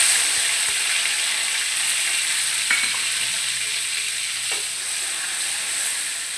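A paste of chili, onion and garlic dropped into hot oil with cumin seeds sizzles in a continuous, loud, even hiss close by, with a couple of faint utensil taps and no talking.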